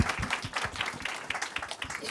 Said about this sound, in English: So final applause for